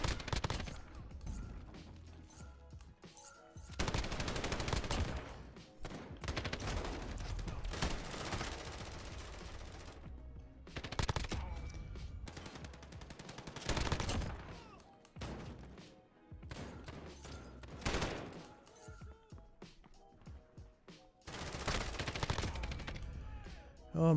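A PKM heavy machine gun firing in the shooter game Modern Warfare, long loud sustained bursts separated by short pauses, with other thumps and crashes between them.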